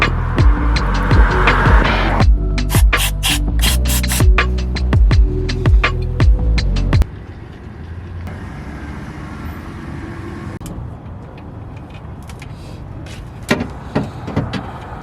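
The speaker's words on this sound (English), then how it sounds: "Traffic was higher than usual today." Busy city street traffic rolls past: a series of vehicles whooshes by in close succession at first, then a quieter stretch of distant road rumble with a few sharp clatters near the end.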